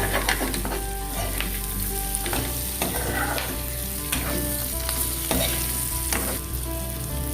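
Basa fish pieces are stirred and mixed in a hot pan, sizzling steadily while repeated scraping and tossing strokes land in an irregular rhythm, close and moderately loud, with no talking.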